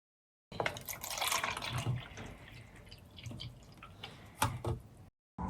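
Water poured from a container into a cup, an uneven trickling and splashing stream with small drips, fairly close, stopping abruptly near the end.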